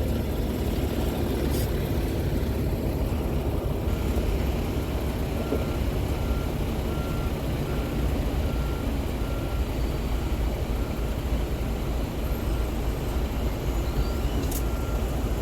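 A tractor trailer reverses in a parallel-backing maneuver, its loud steady engine rumble filling the clip with a faint repeating beep tone running through it, no voices.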